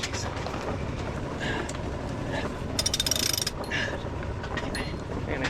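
Ratchet winch on a single-handed sailboat being cranked, a steady run of rapid mechanical clicks over a constant rumble of wind and water, with a louder, sharper burst of ratcheting near the middle.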